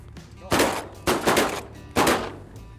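Shotgun blasts on a diver duck hunt on open water, three loud, sharp reports at irregular intervals with quiet gaps between them.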